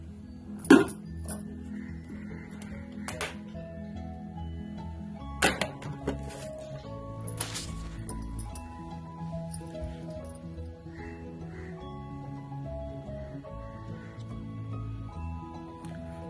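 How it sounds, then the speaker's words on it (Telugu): Wheat flour, salt and balamrutham powder stirred together in a bowl for dosa batter, giving a few sharp spoon-on-bowl clinks and soft scraping over faint, steady background tones. "గోధుమ పిండి బాగా మొత్తం సారంతో మిక్స్ అయితే ఇట్లా మిక్స్ చేసుకోవాలి"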